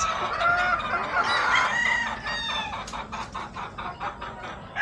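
Chickens and pullets in traditional breeding pens, with a rooster crowing and hens clucking in repeated bursts, close and clear with no talk over them.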